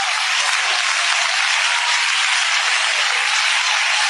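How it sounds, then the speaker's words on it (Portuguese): Broad, steady roar of congregational hand-clapping in a church during a 1996 Pentecostal vigil service, uniformly loud and hissy as if from an old recording, with no break or variation throughout. "vamos ouvir aquela trovada de palmas bem alegres para Cristo"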